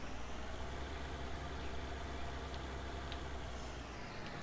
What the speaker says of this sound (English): Well, I had a frigging truck engine underneath me.